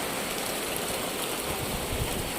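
Rain falling outdoors on a rural homestead, a constant, loud, broadband hiss that holds steady with no pauses.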